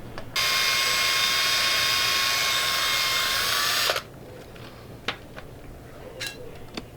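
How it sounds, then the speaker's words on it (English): A power drill whines steadily for a few seconds close by, drilling a hole in a charge pipe coupler of a 2015 Ford Focus ST, then stops, followed by a few faint clicks and taps. "Drilling a hole in the coupler to try to fit this vacuum fitting."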